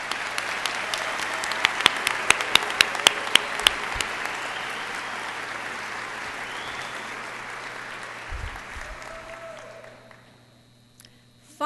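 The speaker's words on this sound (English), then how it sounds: "Let's have another round of applause for the graduating class of 2010" Applause for the graduating class of 2010 at a West Virginia University journalism school commencement, a broad steady clapping from a large audience that thins and fades out near the end.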